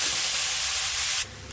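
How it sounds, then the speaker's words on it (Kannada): Onion frying in a pan for momo filling: a loud, steady sizzling hiss close up, continuous for over a second before dropping slightly in level. "ಈಗ ನೆಕ್ಸ್ಟ್ ಆನಿಯನ್ ಹಾಕಿ ಚಲೋ ಫ್ರೈ ಮಾಡಿ"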